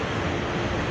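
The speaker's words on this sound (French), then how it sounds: "C'est des chutes d'eau qui ressemblent vraiment presque à des cascades." Waterfalls pour over natural rock formations at the Pertes de l'Ain in the Jura, a steady dense roar of cascading water that fills the whole moment with broadband rushing noise and no talk.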